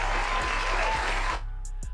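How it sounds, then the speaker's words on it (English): A small group claps in a brief, dense burst that cuts off after about a second and a half, leaving a quiet room with faint low hum. "Let me give you another round of applause."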